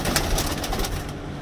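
Pigeons in a loft coo continuously and close by, a soft, throaty, rolling murmur with no talk over it.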